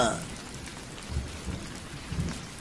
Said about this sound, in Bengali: দেখছেন তো বৃষ্টি নেমেছে, ছাতাও তো সঙ্গে আনেননি।